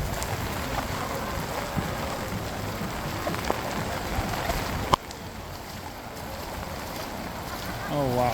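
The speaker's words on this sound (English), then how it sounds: "When it rains in Benidorm." Heavy rain pours in Benidorm with a constant wash of drops hitting surfaces up close, a sharp knock partway through and a voice briefly heard near the end.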